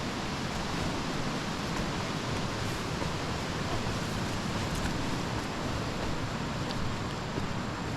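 Steady, broadband rushing of flowing water, continuous and even throughout, from a creek running close by on the Havasu Falls trail, with no other sounds.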